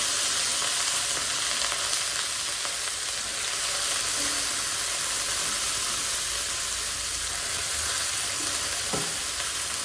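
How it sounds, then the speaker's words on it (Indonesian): A large batch of leafy vegetables cooking in a pan for spicy noodle soup: continuous loud frying hiss with stirring scrapes and occasional clinks, close up and unbroken by speech. "Kemudian waktunya kita masak sayurnya"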